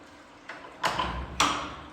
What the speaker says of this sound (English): Can you close those doors for me so we could see them?